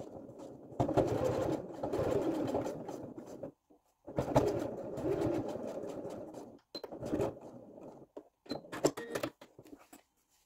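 Domestic sewing machine stitching a seam 1 cm from the edge of a fabric drawstring bag, heard in three bursts of rapid mechanical whirring separated by short pauses.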